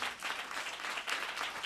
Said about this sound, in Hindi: और जोरदार तालियां बजाओ।